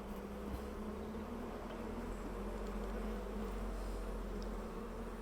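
Honey bees buzzing as a hive frame is lifted gently out with a hive tool, a constant, even, close humming drone with no pauses and no voices.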